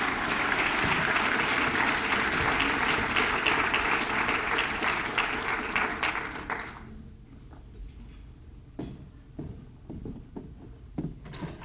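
An audience welcoming Dr. Kristin Simons at a women's gathering claps in a dense, loud burst of applause that fades after about seven seconds, leaving a few scattered claps and room noise.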